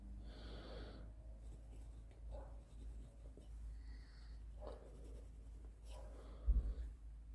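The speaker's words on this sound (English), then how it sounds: "I'm just literally going to file off the rough bits and sharp bits because you don't want it cutting the fishing lines." A needle file scrapes the rough, sharp edges off a lump of metal-detected lead being reworked into fishing weights. Several short, quiet rasping strokes come in separate bursts close by, with no one talking.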